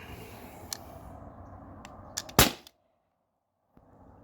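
A single sharp shot from a T4E HDP50 CO2 pistol firing an 8.4 gram steel ball bearing, a loud crack with a short tail that drops into near silence, after a few faint clicks and a low background rumble.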